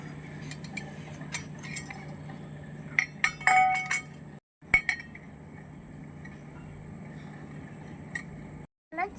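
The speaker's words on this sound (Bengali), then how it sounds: "আমি নাড়াচাড়া করে মাংসটা ঢেকে দিব।" Metal spoon clinking and scraping against a miniature pot while chicken is stirred, then a lid set on top, giving bright chinks in scattered bursts over a steady low hum.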